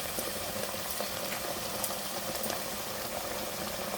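Ghugni with ginger paste, turmeric and chilli powder sautéing in a pan over a high gas flame, a steady broadband sizzle with faint stirring scrapes throughout, close and continuous, no talk.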